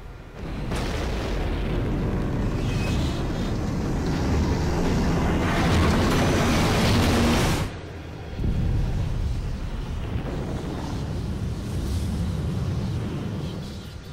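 A crash and explosion in Final Fantasy 9, a long heavy rumbling roar that swells, cuts off abruptly, then resumes as a lower continuous booming rumble.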